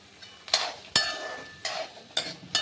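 Pigeon pea seeds being dry-roasted in a pan, with a utensil scraping and stirring in several separate close, sharp bursts and quiet gaps between them.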